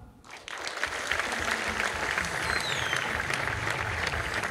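A church congregation bursts into sustained applause during a sermon on healing testimonies, a dense wash of many hands clapping that starts abruptly and holds steady and loud throughout.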